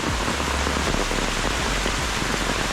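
Torrential monsoon rain pours down in a forest, a dense, loud, unbroken hiss of drops pounding leaves and ground with no voices over it.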